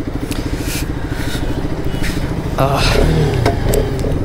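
A Bajaj Pulsar RS 200 motorcycle, 2020 BS6 model, being ridden with a steady mid-pitched engine drone that swells louder partway through as it shifts gears, with wind noise and a voice talking over it.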